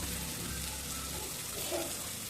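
Tamarind water for fish curry is poured into a pot, a steady, continuous liquid trickle heard up close for a couple of seconds with no talking.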